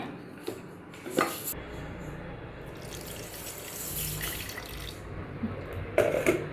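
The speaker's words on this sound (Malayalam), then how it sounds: "നമുക്ക് കുറച്ചുകൂടി വെള്ളം ഇതിൽ മിക്സ് ചെയ്തിട്ടൊന്ന് ഒഴിക്കാട്ടെ" Water poured into a thick mixture in a kitchen, a steady splashing pour running through the whole stretch, with a few clinks of utensils or a vessel near the start and end.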